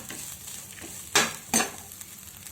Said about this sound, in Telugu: ఇప్పుడు ఫ్రై బాగా వేగిపోయింది.